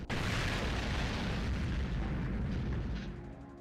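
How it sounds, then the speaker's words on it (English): A trap blast in the visual novel game Higurashi: one sudden loud boom followed by a roaring, crackling rush that holds and then fades toward the end, with no voices. "A roar, a flash, an explosion."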